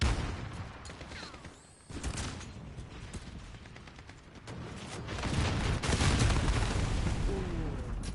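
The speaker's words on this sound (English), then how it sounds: "Ooh, airstrike." Gunship airstrike in the military shooter game Call of Duty: Modern Warfare, a dense, sustained roar of rapid gunfire and booming impacts that swells louder in the second half, with brief quieter dips.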